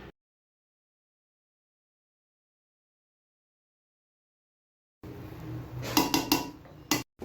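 A metal cooking pot of zarda sweet rice, its sealed dum lid lifted, clatters and clinks with a few sharp knocks after a long stretch of silence, close and fairly loud with no talking.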